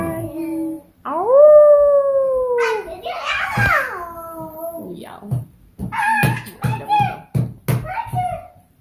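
A dog lets out a long, rising and falling howl close by, followed by choppy bursts of voices and household noise.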